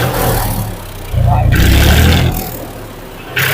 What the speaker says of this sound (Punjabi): ਟ੍ਰਾਇਲ ਚੱਲਣ ਲੱਗੀ ਆ ਮਹਿੰਦਰਾ ਰਾਈਡਰ ਦੀ